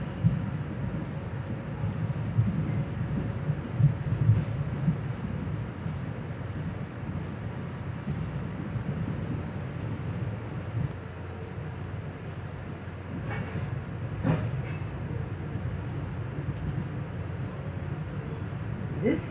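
A passenger train rolls into Egg Harbor City station, with a low, continuous rumble from inside the car and a few faint squeals toward the end as it slows.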